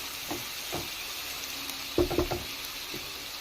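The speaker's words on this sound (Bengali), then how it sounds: "পেঁয়াজগুলো একটু সময় নিয়ে ভাজতে হবে" Onions fry in a pan for a fish curry, a soft sizzle under a few spatula scrapes and clatters, with a brief cluster of louder stirring knocks midway, close by and without talk.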